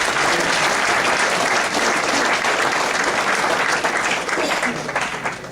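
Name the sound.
audience applause for junior class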